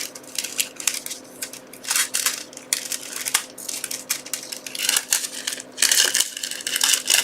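Small scissors snip through thin gold foil for a hot foil craft project, a close series of crisp crinkling cuts and rustles coming in irregular bursts, with a steady electrical hum underneath.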